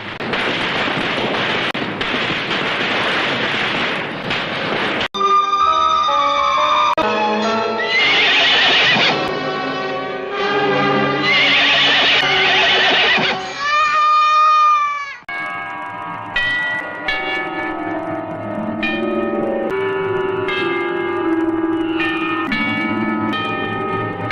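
A horse neighs and whinnies loudly in a film scene, with clip-clopping hooves and other soundtrack sounds layered around repeated whinnies, no talking.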